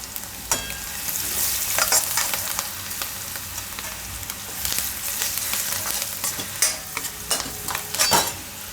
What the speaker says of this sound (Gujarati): તેલમાં થોડીક હળદર નાખી દેવું.